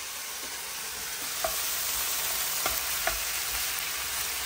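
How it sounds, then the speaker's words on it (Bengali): Chicken sizzles steadily in a hot pan, with a constant close hiss of frying and a few light clinks and stirring sounds, no talking. "আর আমি চিকেনও তো রান্না করছি, এখানে ধোয়া উঠা চিকেন।"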